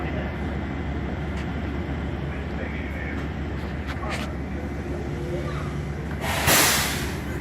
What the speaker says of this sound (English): And that train is terminated here,